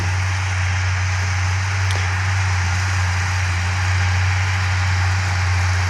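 A steady tractor engine, an Ursus Ślązak 8190, idles close by, a low constant rumble with a strong even hum that holds unchanged throughout, with no voices.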